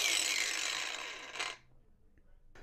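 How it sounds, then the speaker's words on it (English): Cordless angle grinder disc winding down from full RPM, a bright whirring whine that fades over about a second and a half, then silence with a faint click. "we're going to see how quickly this disc stops when it's going at full RPM"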